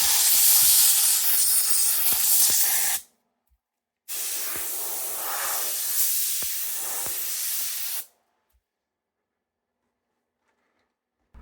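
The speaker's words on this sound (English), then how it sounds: "Stop dusting and start spraying with your can of compressed air, of course." A can of compressed air blasting dust out of a PS4 console: a loud, close hiss for about three seconds, a brief pause, then a second long burst of roughly four seconds, followed by silence.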